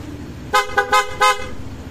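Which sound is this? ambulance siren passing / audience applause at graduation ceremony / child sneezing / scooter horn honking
scooter horn honking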